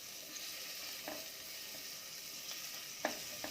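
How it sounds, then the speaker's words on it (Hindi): Finely chopped small onion fries in a pan for millet khichdi, giving a steady, quiet sizzle with a few faint stirring scrapes and no talking. "प्याज को थोड़ा भून लेंगे।"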